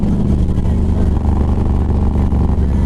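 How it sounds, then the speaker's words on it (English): A 2011 Harley-Davidson Road Glide motorcycle engine revs high in a loud, steady drone with a strong low rumble, held close throughout the short stretch. "I don't think it likes to be revved that high."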